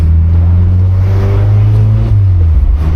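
Mazda MX-5 convertible exhaust droning steadily and loud up close in a city street, a low rumbling engine note with the sound reflecting off surrounding buildings, slight change in pitch near the end.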